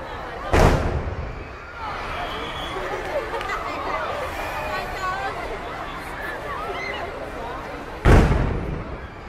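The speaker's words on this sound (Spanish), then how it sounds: "Están tirando la 21 salva." Cannon salute fired in the Dominican Republic for independence day: two loud, booming blasts about seven seconds apart, each followed by a rolling echo, with crowd chatter and voices filling the gap between them.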